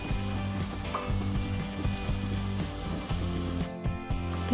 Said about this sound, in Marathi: छान असा मसाला कमी गॅसवरती आपल्याला तेल सुटेपर्यंत परतून घ्यायचं आहे